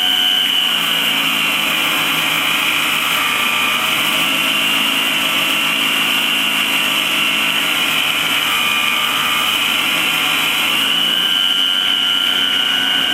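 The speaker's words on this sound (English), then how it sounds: "And now to buff it." A power buffer polishes a planished armour plate, giving a continuous loud, high whine with a grinding hiss that holds steady the whole time.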